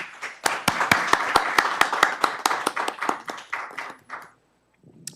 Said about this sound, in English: Let's give our Board of Trustees a round of applause for all their hard work